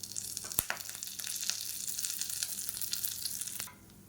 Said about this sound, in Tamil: எண்ணெய் சூடானதும் தாளிப்பு வடகம் சேர்த்துக்கலாம்